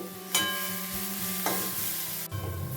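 Grated carrots for carrot halwa frying in a pan over a low flame, stirred with a few sharp scraping strokes over a continuous close sizzle, with no voices.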